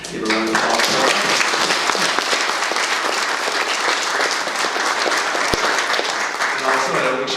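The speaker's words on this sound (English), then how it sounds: "Give a round of applause for her." A large audience at a museum ribbon cutting claps loudly and steadily throughout, a dense sustained wash of applause.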